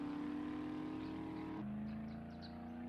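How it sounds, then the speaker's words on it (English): Steady engine drone from a car in the survival game 7 Days To Die, a continuous loud hum with a sudden pitch drop midway as if shifting or slowing, no talking over it. "I can hear her car"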